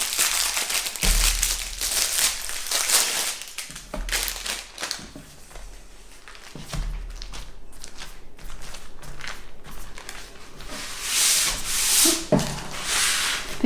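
Ready-rolled puff pastry sheets are peeled slowly from greaseproof paper, giving close, loud rustling, rubbing and crinkling that rises and falls in bursts without speech.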